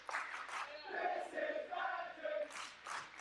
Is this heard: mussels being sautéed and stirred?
no